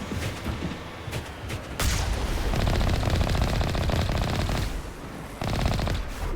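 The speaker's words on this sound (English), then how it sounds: "I like how that burst from the turret there" A turret fires in the Mass Effect Legendary Edition video game: rapid machine-gun bursts crackle loudly and continuously, with a brief pause before the fire resumes.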